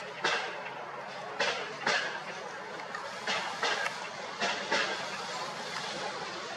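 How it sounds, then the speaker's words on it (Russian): Trams at the Saltovka tram depot in Kharkiv, heard from a distance as irregular metallic clanks and rail knocks over a steady background hiss of the city at night. "Это у нас Салтовское трамвайное депо."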